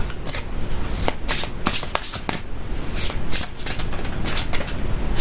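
Tarot cards being shuffled by hand in a quiet room, a steady run of crisp riffling flutters and soft slaps repeating close to the microphone, with no talk.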